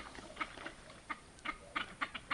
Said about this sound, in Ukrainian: Качки в очереті щось такий шум гам підняли.